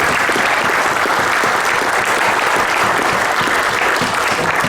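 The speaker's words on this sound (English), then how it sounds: "Now, huge round of applause" An audience at a club presentation gives a loud, continuous round of applause, thick and steady clapping filling the whole stretch with no pause.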